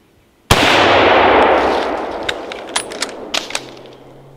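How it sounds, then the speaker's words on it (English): A single loud rifle shot cracks out during a moose hunt in Vermont, its report rolling away in a long fading echo across open terrain, with a few faint clicks and knocks afterward. "Shoot him."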